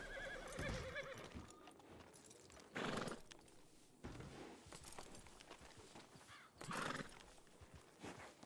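A horse in a video game whinnies twice amid steady clip-clop hoofbeats, fairly close and clear, with no talking.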